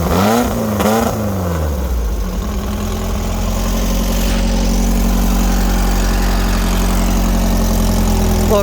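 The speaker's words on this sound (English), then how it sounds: "A little cold start action." A VW sandrail engine settles into a loud, steady idle just after a cold start. It begins with a brief rising rev and falls to a deep, even rumble heard close and alone.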